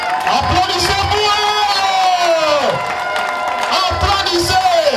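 A crowd of women at a political rally clapping and cheering, with loud shouts and whoops rising over continuous applause, voices sweeping up and down in repeated bursts, close and energetic.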